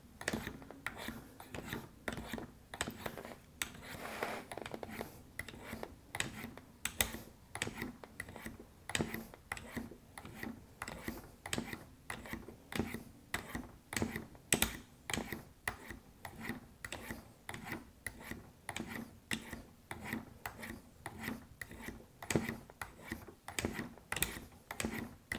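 A knife blade is drawn across the flat sides of Spyderco sharpener stones in quick, regular strokes. The faint scraping clicks repeat steadily for the whole stretch, close by but quiet.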